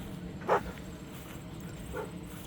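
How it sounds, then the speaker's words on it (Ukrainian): A dog barks twice in the distance, faint single barks about a second and a half apart over low background rumble. "Собачка на мене почала гавкати."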